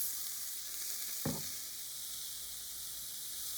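Beef frying in a pan with black pepper and soy sauce for spring rolls, giving a steady close sizzle throughout with one brief louder crackle.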